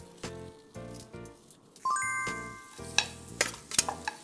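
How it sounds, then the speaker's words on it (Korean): Octopus frying in a generous pour of olive oil in a pan, with sharp close sizzling bursts, scraping and stirring clinks over rhythmic background thumps, and no one talking. "팬에 올리브 오일을 넉넉하게 두릅니다. 쉽게 얘기하면 튀기겠다는 얘기예요."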